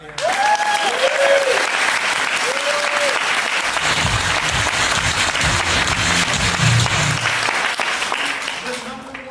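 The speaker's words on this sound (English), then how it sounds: "help me welcome a round of applause for my wife" Loud, sustained applause from a large audience fills the whole stretch, with a voice briefly heard over it at the start.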